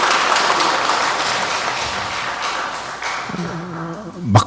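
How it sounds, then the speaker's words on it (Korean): Applause from a church congregation at a Korean Catholic High Mass, a dense wash of clapping that fades toward the end as a voice begins speaking and a brief loud thump closes it. "감사의 박수 보내드리면 좋겠습니다"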